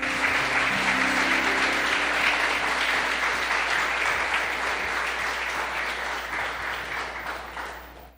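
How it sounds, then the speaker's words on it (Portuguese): Church congregation applauding together at the close of a prayer, a loud, sustained wash of clapping that holds steady for several seconds before tapering off, with a low organ or keyboard chord held underneath. "Dê um forte aplauso ao Senhor."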